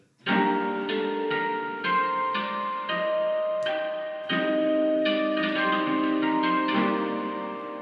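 Guitar through a telephone-sampled preset: plucked tones with a thin, filtered, lo-fi character ring out in a slow melodic sequence, each note sustaining and overlapping, played alone.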